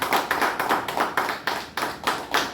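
Audience at an electricity utility customer lucky-draw event claps in a steady, rhythmic beat, sharp close hand claps repeating about four times a second, loud and without talk.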